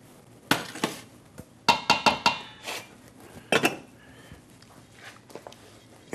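Spoon scraping and clinking against a bowl while basmati rice is mixed into a pumpkin stuffing, in scattered sharp knocks and brief scrapes close by with quiet gaps between them.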